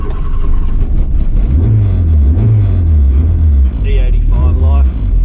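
A turbocharged Honda Civic EK running on E85 idles and pulls away with a loud, steady engine rumble that rises as it drives off, while someone talks over it.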